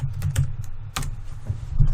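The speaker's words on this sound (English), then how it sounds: "Type in your recipes." Typing on a computer keyboard while entering recipes into a spreadsheet, a quick close patter of distinct key clicks over a low hum, with no talk.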